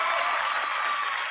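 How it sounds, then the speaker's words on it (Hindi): A brief burst of dense audience applause at a motivational speech event, steady bright clapping from many hands lasting just over a second. "एक बार जोरदार तालियां होना चाहिए स्मार्ट वैल्यू प्लेटफॉर्म में आप लोग"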